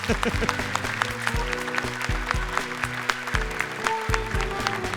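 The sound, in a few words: audience applause for Kak Nabila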